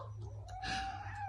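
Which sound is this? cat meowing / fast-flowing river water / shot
cat meowing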